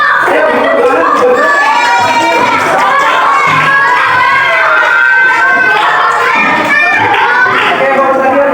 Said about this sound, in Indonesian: beri tepuk tangan untuk teman-teman kita